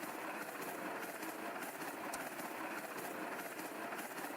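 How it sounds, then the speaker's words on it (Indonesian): Train rolling along a route in the Roblox video game, a steady dense rumble of wheels and engine noise that holds constant throughout with no talk over it. "Wih, jalan nih kereta ke Ketapang nih."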